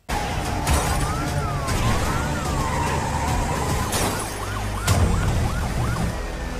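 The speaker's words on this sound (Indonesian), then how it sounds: "Segera ambulan berangkat" Ambulance siren wailing as the vehicle departs, a loud close cycling tone that shifts into a faster yelp pattern, over traffic noise with a couple of sharp bangs.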